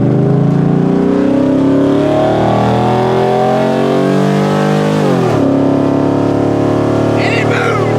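A cheap $3,500 daily-driver car idles loudly and revs in steady, rising engine tones that continue through the whole stretch, with a faint voice mixed in underneath.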